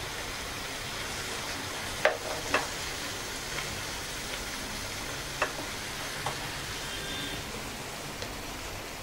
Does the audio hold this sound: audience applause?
no